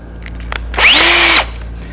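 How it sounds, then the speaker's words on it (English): Power drill boring a hole in wood while building a hanging cupboard, a short whining burst of about half a second rising in pitch as the bit cuts, preceded by a couple of faint clicks. "I simply drill it."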